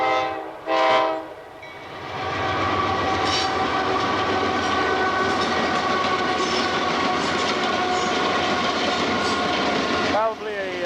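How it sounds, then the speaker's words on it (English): A coal train passes close by with a long, loud, blaring horn blast, then a continuous roar and rumble of railcars rolling on the rails for many seconds, with faint squeals as it fades. "Here comes a train. Look at that."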